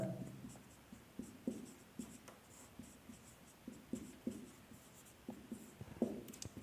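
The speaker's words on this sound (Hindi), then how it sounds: "यहां लिख दूं, यहीं पे लिखता हूं।" Chalk or marker tapping and scraping across a classroom board during a Hindi-language physics lesson on ray optics, a steady run of short strokes and clicks with low room noise and no talk.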